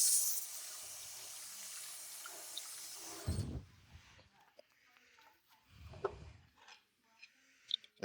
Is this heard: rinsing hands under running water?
yes